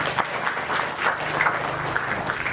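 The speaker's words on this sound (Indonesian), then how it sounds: "Boleh tepuk tangan untuk KMP" Audience applause for KMP at a student orientation gathering with new university students, a short steady burst of many hands clapping with no gaps.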